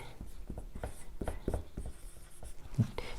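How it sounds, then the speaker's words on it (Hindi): Marker or chalk scratching across a board in short separate strokes, close and fairly quiet, with a few soft taps between them and no talk. "जैसे यहाँ पर हम लिखते हैं"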